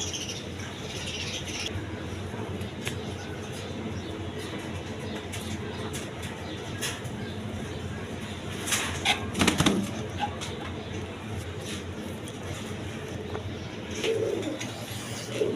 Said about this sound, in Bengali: এইখানে এক পেয়ার কিং কবুতর আছে দেখেন